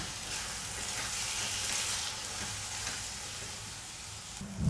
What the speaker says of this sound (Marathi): आता हा आपण सर्व परतून घेऊया